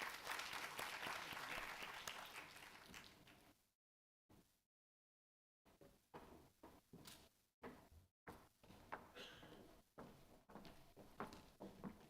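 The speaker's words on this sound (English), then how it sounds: "let's give them a big round of applause" Audience at a national climate governance summit breaks into loud, sustained applause that fades out, then scattered clapping returns in short bursts.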